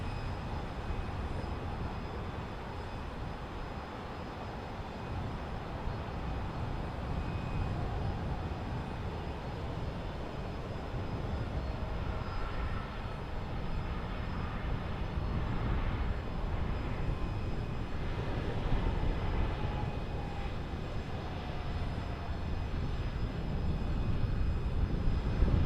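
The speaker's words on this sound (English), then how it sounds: "Nice firm landing right on the button." A jet airliner lands at Portland airport, its engine roar a steady, broad rumble that grows gradually louder over about twenty-five seconds with no talking.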